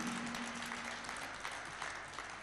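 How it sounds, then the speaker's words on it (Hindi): An audience at a religious discourse gathering claps for the organising committee, a soft, even spread of hands heard at a distance with a faint hum at first. "एक बार यहाँ की कमेटी के लिए तालियां बजा दीजिए।"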